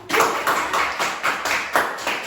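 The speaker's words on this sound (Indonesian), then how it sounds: "Boleh tepuk tangan?" A small classroom group claps hands together in a microteaching lesson, a brief round of about seven or eight quick, fairly even claps close by, with no talking over it.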